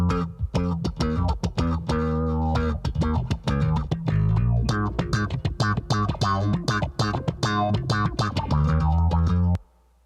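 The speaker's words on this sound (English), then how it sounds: "So here's the slap bass with both things on it." Slap bass played through Source Audio effects pedals, a dense run of sharp percussive plucked and popped notes with bright harmonic tails, loud and alone for about nine seconds before stopping.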